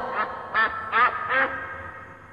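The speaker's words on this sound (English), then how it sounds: "D for duck." A duck quacks four times in quick succession, loud and close, with nothing else heard.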